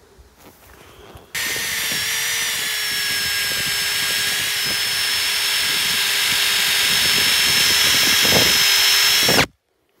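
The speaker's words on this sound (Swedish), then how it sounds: "Borren nådde inte så långt." A power drill whirs loudly and steadily into wood for about eight seconds after a short quiet start, its pitch slightly shifting, then cuts off abruptly.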